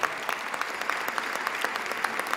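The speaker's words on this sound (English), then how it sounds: "Yeah, Julie, nice round of applause." An audience at a development center announcement gives a brief, even burst of applause, with a few sharper individual claps standing out from the steady patter.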